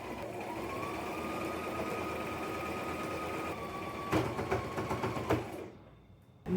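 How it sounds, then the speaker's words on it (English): Sewing machine stitching the pocket and skirt seam down the front of a dress, a steady close whirring run for about four seconds, then a few shorter bursts before it stops. "We're going to sew the pocket and the skirt and the other pocket all the way down the front of the dress."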